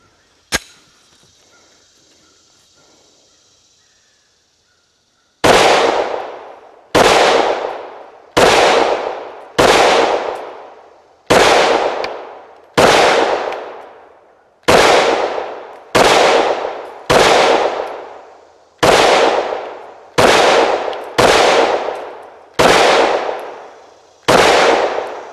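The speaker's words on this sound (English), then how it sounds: "Let's go ahead and take some shots and see if that fixed it." A Glock pistol fitted in a CAA Micro Conversion Kit fires about fifteen loud, close shots at a steady, unhurried pace, each sharp crack followed by a short ringing decay, after one earlier isolated bang.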